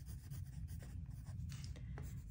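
A pen scratches quickly across paper while numbers are written out, a faint, close, continuous scribbling with small strokes and pauses against a low background hum.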